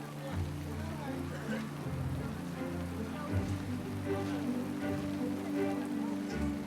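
Steady rain patters on surfaces in freezing cold weather, a dense continuous hiss with scattered drops, faint and even throughout, with a voice speaking over it.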